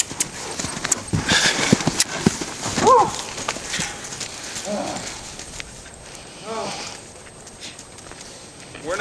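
A rescue draft horse working and being pulled through, hooves clip-clopping in a loose uneven rhythm nearby, with a short whinny-like call and a voice talking at times over it.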